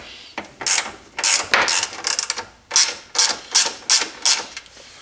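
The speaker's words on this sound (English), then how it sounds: "This is a gear ratchet with a 3/8 socket on it." Gear ratchet with a 3/8 socket turning a bolt while installing a hitch on a Polaris Sportsman 570 quad: a series of loud, close ratcheting bursts, each a rapid clicking sweep, repeated about nine times with short pauses.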